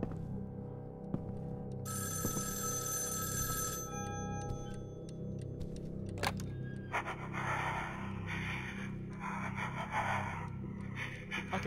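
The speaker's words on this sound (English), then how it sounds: "Oh, the phone's just freaking ringing." A telephone bell rings in a short, loud burst of rapid trills over a low droning hum in a quiet, eerie room, followed by faint breathy noises and no talking.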